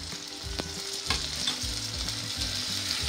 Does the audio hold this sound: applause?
no